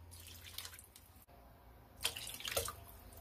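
Water runs and splashes into a pot of corned beef stew on top of chicken broth, a steady near pour broken by a short pause and then louder spattering at the end.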